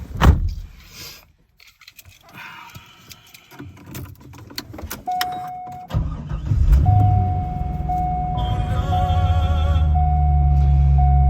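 A Corvette C5 Z06 in Speedway White with red interior: keys jangle, the starter cranks and the engine catches, then settles into a steady, close idle with a chime sounding over it.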